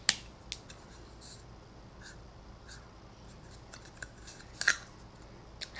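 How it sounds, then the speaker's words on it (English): A dry erase marker squeaks and scratches across a surface in short, scattered strokes, quiet and close with no talk over it. "let's see if I can do it with this dry erase"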